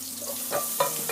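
Garlic fries in hot oil for a Sylheti dried fish shira, giving a steady close sizzle with a few louder bursts as the pan is stirred.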